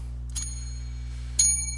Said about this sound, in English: So, got my bell.